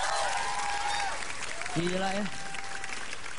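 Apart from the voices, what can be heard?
comedy audience applause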